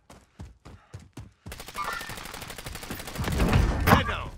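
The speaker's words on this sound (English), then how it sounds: "Dale, someone's shooting at you" Video game gunfire opens with five evenly spaced, punchy single shots, then gives way to a dense, continuous stretch of rapid fire and combat noise that builds in loudness toward the end.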